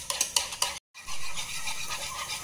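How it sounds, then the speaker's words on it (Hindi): Yogurt is whisked with a beater in a container for raita, a brisk close rhythmic scraping and slapping that stops for a brief pause before resuming steadily. "सबसे पहले एक कंटेनर में दही ऐड कर लीजिए और इसे बीटर की सहायता से विस्क कर लीजिए।"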